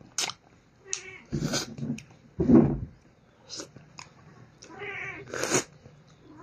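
A cat meows in short, separate cries beside someone eating star apple in a backyard, several close, fairly loud calls spread across a few seconds with gaps between them.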